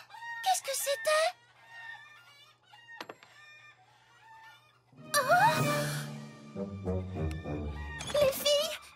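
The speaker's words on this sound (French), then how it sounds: "Fluttershy, tes poules se sont enfuies" Hens cluck and squawk in an animated cartoon coop, several excited bursts mixed with flapping and speech, alternating between loud and quiet passages.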